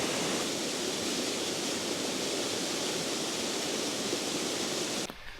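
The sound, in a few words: small waterfall in the Lake District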